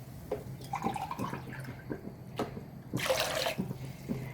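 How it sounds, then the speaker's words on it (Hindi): Water is poured into a cooking pot to make chicken stock for pulao, splashing and trickling close by in uneven bursts before a fuller, louder gush near the end. "4 गिलास पानी ऐड करेंगे।"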